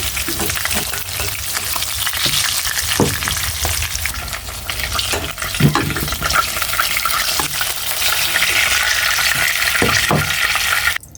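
Pieces of katla fish frying in hot oil give a loud, continuous sizzle, with occasional stirring or turning sounds close by and no talking.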